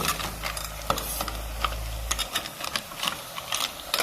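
Stirring a Thai curry of freshwater snails with betel leaves in a pot, giving a run of wet scraping and clicking strokes with a low rumble early on, close and moderately loud with no talking.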